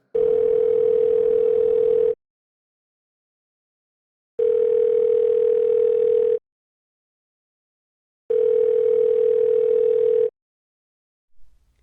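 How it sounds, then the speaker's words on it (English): A telephone call tone repeats in three long steady bursts of about two seconds each, separated by silent gaps, clear and loud with no voices. "She listened to Nikki's phone ring, praying she would pick up"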